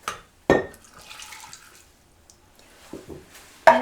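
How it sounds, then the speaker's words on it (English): Water rinsing a coconut milk can in a home kitchen: a sharp metallic clank, then soft sloshing and trickling, a couple of light taps, and a final loud clink of the can. "So I always like to rinse this can."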